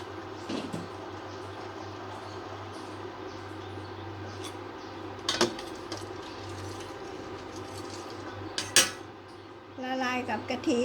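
Spoon stirring cornstarch into coconut milk in a bowl, quiet steady swirling with a few sharp clinks of utensil on the dish and a clatter near the end.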